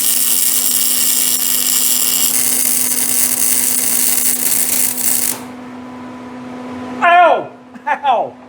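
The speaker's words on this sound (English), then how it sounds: "I need to weld it too from this side." A welder working on a homemade exhaust gives a steady crackling buzz for about five seconds, then stops; a voice follows briefly afterward.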